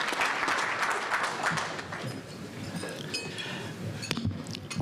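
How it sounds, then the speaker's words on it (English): A luncheon crowd gives a big round of applause for Ed Flynn at a St. Patrick's Day event, sustained dense clapping with a few clinks. "a big round of applause for the District City Council and the former City Council President"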